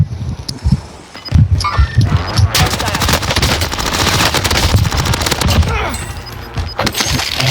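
Dense automatic gunfire bursts and single shots ring out at close range in a video game, loud and rapid, with brief pauses between volleys and a voice talking over part of it.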